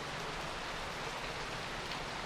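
Rain falls steadily outside in the video game Noir Storm: a dense, even hiss of drops with no breaks, close and fairly quiet throughout.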